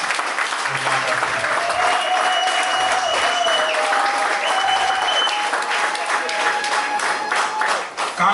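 An audience at a ceremony in the DRC applauds loudly for the head of state, dense sustained clapping filling the room, with a voice and whistles or calls riding over it.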